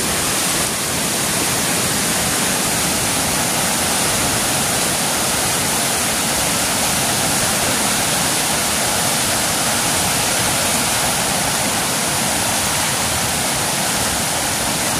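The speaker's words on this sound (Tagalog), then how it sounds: "Lumakas-lakas yung tubig." A loud, clean river rushing steadily and continuously throughout, a broad close roar of flowing water with no voices heard.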